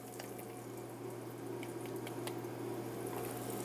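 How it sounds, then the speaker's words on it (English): Floured meat sizzling in a hot pan on the stove, a steady, dense crackling hiss with small popping spatters, close and continuous with no talk. "right now, you're just going to sear it on both sides"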